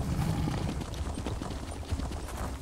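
Horse hooves clopping during riding in The Elder Scrolls Online, a quiet, busy run of soft thuds in steady rhythm over a dull background rumble, with no talking.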